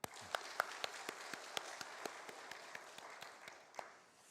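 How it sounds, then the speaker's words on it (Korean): A church congregation at a Sunday afternoon worship service claps in a quick, steady rhythm, sounding faint and distant in a large room, with the claps tapering off at the end. "박수 한 번 더 하죠."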